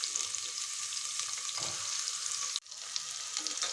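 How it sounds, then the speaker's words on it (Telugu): Onions frying in oil until golden, a dense steady sizzle close to the pan with a brief dip near the end, no talking. "ఇవి బాగా గోల్డెన్ కలర్ వచ్చే వరకు దీన్ని ఆయిల్లోనే ఫ్రై చేసుకోవాలి"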